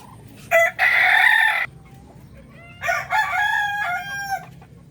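Native Darag chickens and chicks on a Philippine backyard farm. A rooster crows twice, loud and close, with a short pause between the crows and a quiet background.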